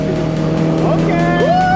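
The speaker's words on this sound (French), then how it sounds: "on va se faire un kiff bateau à moteur" Motorboat engine droning steadily through a theme park ride, a loud continuous hum with rising whine bursts near the end, while people talk over it.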